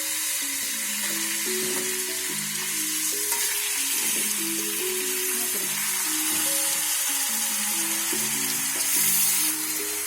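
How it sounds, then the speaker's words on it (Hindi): Lamb (dumba) meat with fat and bones fries in a karahi, giving a steady, loud, close sizzle with occasional stirring clinks throughout. "इसको हम 10 मिनट तक फ्राई करेंगे।"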